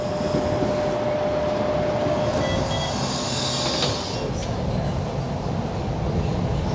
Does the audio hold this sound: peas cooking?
no